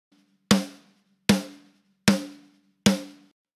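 An EQ'd snare drum, top and bottom mics blended, strikes four times at an even, unhurried pace. Each crack is punchy with a short ringing tail, and the hits are heard alone.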